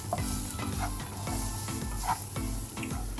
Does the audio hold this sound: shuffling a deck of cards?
no